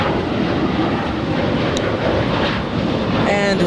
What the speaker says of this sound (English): And there is Lufthansa getting ready to start taxiing as it heads back to Frankfurt.